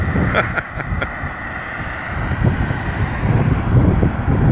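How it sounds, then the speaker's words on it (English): Gusty wind of around 20 miles an hour buffeting the microphone outdoors, a rough low roar that rises and falls in strength throughout. "excuse the wind. We got probably 20-mile-an-hour winds at times."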